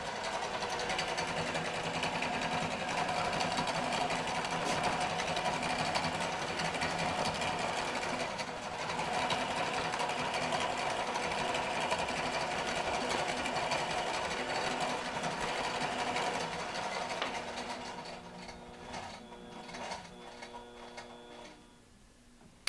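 A QBOT V3 longarm quilting machine runs edge-to-edge nesting stitching in a fast, steady mechanical whir with rapid ticking needle strokes, continuing for a long stretch before slowing and thinning out near the end.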